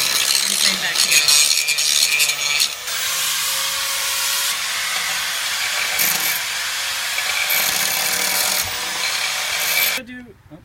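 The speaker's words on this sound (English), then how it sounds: "Grinding the nails off." A power grinder shrieks steadily as it grinds nails off pallet wood, a loud continuous hiss with brief dips in pitch, cutting off abruptly near the end.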